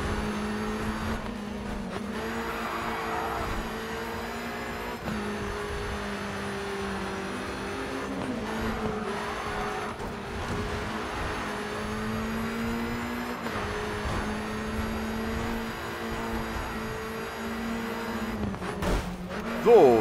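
A race car engine in the Grid 2 racing game howls at full throttle, a sustained droning engine tone held under steady game sound for the whole stretch, with a brief louder burst at the end.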